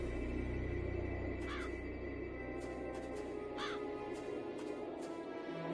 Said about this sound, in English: Time to feed the crows.